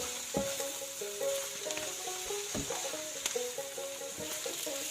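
Foraged weed greens frying with onion, garlic and chili in a pan, a steady sizzle with scraping stirring strokes and utensil clinks throughout, close and moderately loud, no talking.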